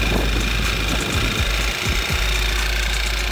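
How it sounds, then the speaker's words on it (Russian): An Audi 1.8 TFSI engine with a faulty oil separator runs roughly with uneven knocking and shaking pulses under a steady loud drone, close up. "И двигатель, вот, он начинает колбаситься жестко."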